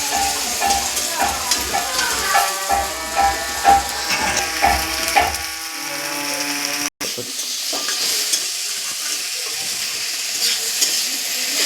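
Spices fry and get stirred in a pan for a vegetable dal with soybean chunks, a spoon scraping and clinking rhythmically over a soft sizzle, followed by a steadier frying hiss.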